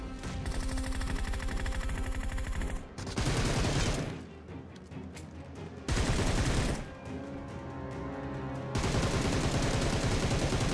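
Rapid bursts of M762 rifle fire from PUBG Mobile, loud and close, with dense automatic volleys broken by short pauses and several sustained strings of shots.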